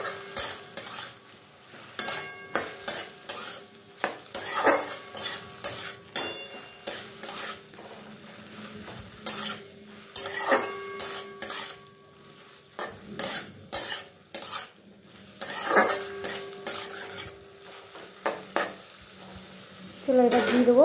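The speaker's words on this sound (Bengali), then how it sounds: "এবার আরেকটু নাড়িয়ে দেবো।" A spoon repeatedly scraping and clinking against a pan while kulé greens curry is stirred, a steady uneven rhythm of close metallic scrapes with a soft sizzle beneath.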